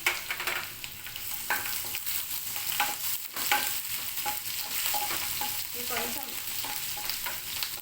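Ginger-chili paste and green chilies frying in hot oil, a loud, close, continuous sizzle broken by scrapes and stirring clicks, with no voices.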